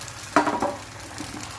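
Neer dosa batter is poured and spread on a hot pan, giving a brief burst of sizzle that fades into a soft, steady frying hiss, close and alone.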